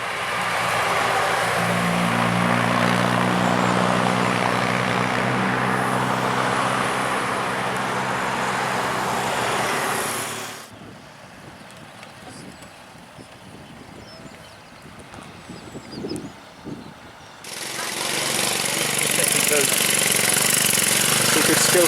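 Royal Enfield Himalayan motorcycle engine running loud and steady at the Land's End Trial, then dropping to a quieter stretch with faint knocks before the engine noise returns at full strength.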